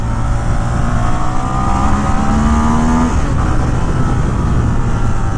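A 2017 Ducati Monster 1200 R accelerating on a test ride, its engine droning loudly and rising steadily in pitch under heavy rushing wind noise, heard continuously from on the bike.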